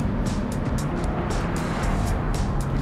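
A 2022 Toyota GR86 sports car drives with a steady, loud engine and road drone throughout, with faint periodic ticks riding on top of the continuous rumble.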